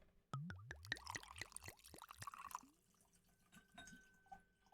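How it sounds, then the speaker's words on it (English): Caol Ila 14-year-old Scotch whisky from a Hermitage cask, bottled by Gordon and Macphail, is poured into a glass as a quick run of rising, gurgling glugs, followed by faint drips and quiet settling. "All right, let's pour this."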